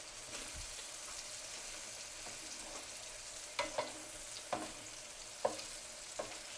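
Beef searing in regular salted butter in a very hot pan, a constant broad sizzle with a few sharp spatula taps and scrapes, close and steady.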